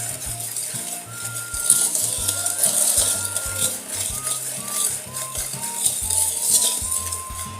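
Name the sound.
stirring Nutrijel jelly powder mixture in a pot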